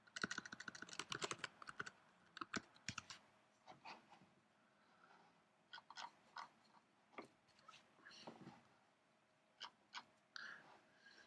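Irregular bursts of typing on a computer keyboard, quick clustered keystrokes with short pauses between, close and fairly quiet with no talking.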